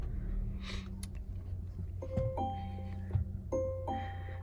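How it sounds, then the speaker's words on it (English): A 2021 Volvo V60 Cross Country sounds its seatbelt warning chime inside the cabin, two soft repeated ding-dong tones over a low idle hum. "And that is Volvo's seatbelt chime right there."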